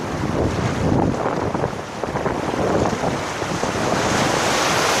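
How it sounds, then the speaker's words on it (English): Rushing white water crashes over an inflatable raft on the Cardiff International White Water rapids course, a loud, continuous roar of surf and spray filling the whole stretch with no voices. "Big splash."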